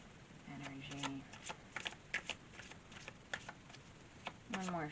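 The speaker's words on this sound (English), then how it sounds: "One more shuffle" Tarot cards being shuffled by hand, with quick flurries of crisp riffling and tapping, close up and fairly soft, while a voice speaks briefly at the start and again at the end.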